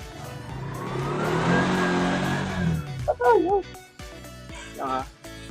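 Tuk-tuk engine revving unevenly as a beginner works the manual clutch, a rising and falling motor note that surges, then cuts out, with a voice talking over it near the end.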